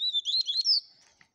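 A papa-capim seedeater sings one short, bright phrase of rapid high chirps and twitters, close and clear, ending in a soft final note.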